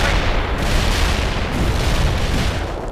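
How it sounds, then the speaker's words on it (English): Heavy artillery fire in the video game World in Conflict: a loud, continuous barrage of booming blasts that merge into a dense, rumbling roar for the whole stretch. "That's heavy artillery"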